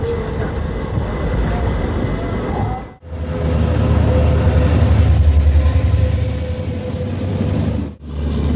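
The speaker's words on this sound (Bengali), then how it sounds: "তেজস রাজধানী এক্সপ্রেস কিন্তু ক্রসিং কমপ্লিট হলো" The Tejas Rajdhani Express rolls through the crossing at Kumarghat on the Agartala line, a loud, sustained low rumble of passing carriages that briefly cuts out twice before resuming.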